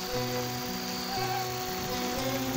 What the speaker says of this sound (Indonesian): Di sini sudah mulai hujan.